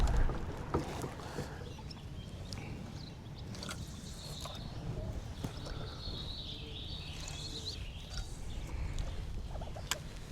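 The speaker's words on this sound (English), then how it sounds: "I'm on a plastic boat" Wind buffets a small plastic fishing boat on whitecapped California Delta water, with steady rushing noise, hull knocks and creaks, and scattered splashes close by.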